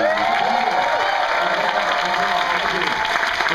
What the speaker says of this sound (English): And I've just come out on stage to your raucous applause.